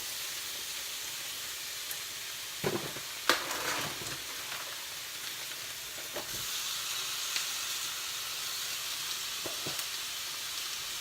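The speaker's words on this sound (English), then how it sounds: "So now what I'm going to do is put in the raw meat." Raw meat hits a pan with softened onions and sizzles in a steady, close hiss, broken by a few scraping stirs and brief louder crackles.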